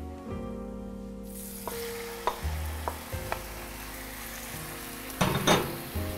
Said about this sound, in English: We're gonna saute the onions for a little bit, not for too long.